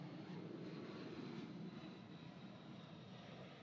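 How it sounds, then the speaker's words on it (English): A wide-body jet airliner, something like an A380, passes overhead in an outdoor setting, giving a steady, distant engine roar that slowly fades over a few seconds. "you got like a 380 jet flying overhead"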